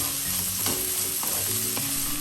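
Onion stirred and fried in oil for noodles makes a constant close sizzle, broken by a few rhythmic scraping strokes of a spoon through the pan.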